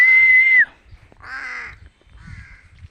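Pet crows caw when called, giving a few loud, close, harsh calls after a sharp whistle, with short gaps between them.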